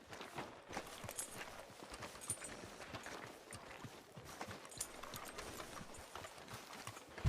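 Horse hooves clip-clop on the ground in the Red Dead Redemption 2 game, a quiet, steady run of soft hoofbeats at a walking pace, heard alone at low level.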